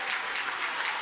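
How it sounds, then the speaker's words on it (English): Blue Devils fans in a high school gym applaud during a Georgia state boys basketball playoff game as a player fouls out; a short, steady burst of clapping from the crowd, fairly close and continuous. "He gets a round of applause from the Blue Devils fans."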